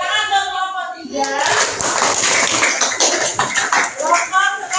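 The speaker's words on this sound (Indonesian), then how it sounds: "Tepuk tangan untuk kelompok 3." Children in a classroom clap for a group of classmates: a burst of dense, quick applause from many hands that starts after a brief spoken line and continues loudly to the end.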